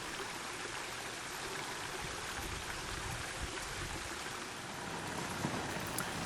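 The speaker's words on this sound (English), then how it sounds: "There was plenty of running water in the gorge for us" Water runs steadily through a rocky gorge at a Western Australian campsite, a continuous close rushing stream with a constant broadband wash and no voices.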